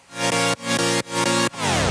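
Saw synth chords from a Sylenth patch with the chorus switched off, sounding drier and less lush: four loud, bright, buzzy sustained stabs ramping up in level, each cut short before the next, with no voices.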